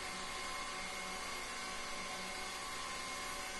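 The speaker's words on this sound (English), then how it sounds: "In this video I'm showing the Taig CNC mill making 1-inch spindle wrenches." Taig CNC mill cutting a 1/4-inch 6061-T6 aluminum bar into 1-inch spindle wrenches, a continuous high spindle whine with steady cutting noise, even and unbroken for the short span, no talking.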